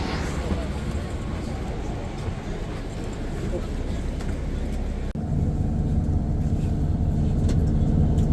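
A tour bus idles with a steady low engine rumble and broadband noise on a hot morning at Tokushima port in Japan, with a brief dropout midway and then a heavier, louder drone.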